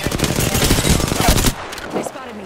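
Rapid automatic gunfire in a video game, loud and dense bursts for about a second and a half before cutting off, then a quieter stretch with faint game sounds and a brief voice.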